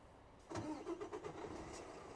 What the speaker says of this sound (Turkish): Gelelim otobüsümüzü çalıştırmaya